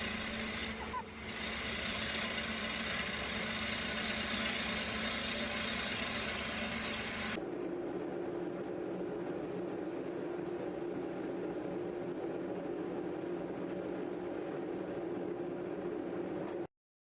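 Steady, continuous machine hum and whir from a wood lathe spinning a bowl blank cut from a log, with the tailstock pressed to the bowl bottom. The sound runs unbroken and close, shifting tone partway through.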